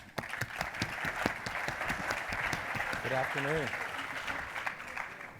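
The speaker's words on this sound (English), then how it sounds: "Please join me in giving him a big round of applause." Audience at a green energy conference applauding a keynote speaker, steady clapping throughout while the speaker greets the room over it.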